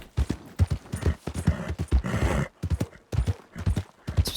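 Horse hooves clip-clop along a road in Red Dead Redemption 2 with a steady, close, rhythmic beat, pausing briefly twice before carrying on.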